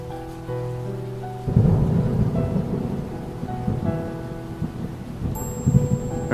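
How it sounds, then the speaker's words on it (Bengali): Steady rain pours down in a Bengali horror cartoon scene, joined by deep rolling thunder that swells in heavy rumbles under faint tonal background sound. "এরপরেও বৃষ্টি থামে না"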